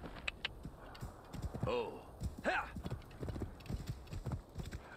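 Horse hooves clip-clopping in Assassin's Creed Origins, with a clear whinny partway through, steady near hoofbeats under light game sound.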